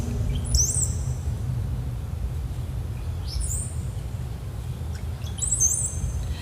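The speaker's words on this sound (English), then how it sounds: "Do you mean please do use those bird sounds, like the flying away sounds?" Outdoor bird calls: a few brief chirps and squawks at spaced intervals over a steady low rumble of background noise, with no one talking.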